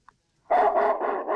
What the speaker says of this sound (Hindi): देखिए ये कुत्ते की आर्टिफिशियल आवाज़ निकल रही है।